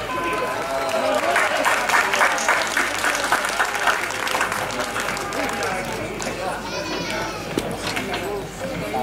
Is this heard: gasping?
no